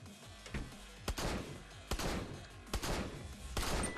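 A shotgun in the video game Paranautical Activity fires several punchy shots at uneven intervals over a faint, steady game background, each blast sharp and close with a brief rumbling tail.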